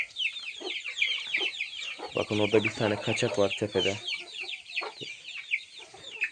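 Chicks peep busily while hens cluck and murmur nearby in a coop, and a person speaks briefly in Turkish over the flock.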